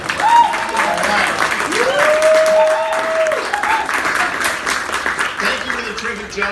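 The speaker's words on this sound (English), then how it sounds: "And let's hear it for Megan" An audience applauds a congressman's introduction at an event, a steady burst of clapping that holds for several seconds and fades slightly at the end, with brief voice-like tones over it.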